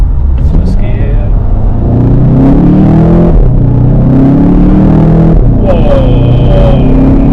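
A 2016 VW Golf GTI MK7 hot hatchback accelerates hard in first gear, its engine note rising in loud, rumbling sweeps heard from inside the car.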